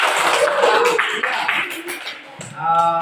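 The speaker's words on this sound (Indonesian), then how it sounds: "Angga, ayo tepuk tangan dulu untuk Angga." A classroom of students claps for a classmate, a burst of dense mixed clapping close by that fades toward the end, with children's voices mixing in.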